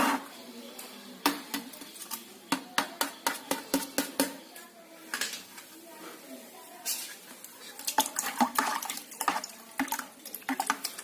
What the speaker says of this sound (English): And now I will mix those carbendazim and mancozeb in this 1 liter of water.